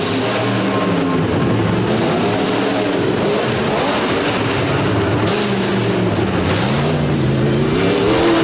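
A big orange front-wheel-drive modified Ford race car runs on the throttle, a loud continuous engine roar with rising and falling pitch sweeps as the revs surge repeatedly.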